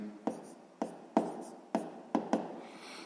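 Pen or chalk writing out a sixth-grade math solution: about six distinct scratchy strokes in an uneven rhythm, close and fairly clear, with no talking.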